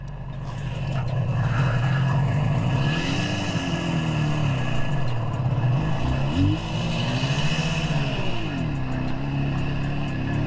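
A 1977 Suzuki GT250 motorcycle with Micron exhausts runs close by, a loud, steady two-stroke engine note that rises and falls through a few gentle revs, alone without talk.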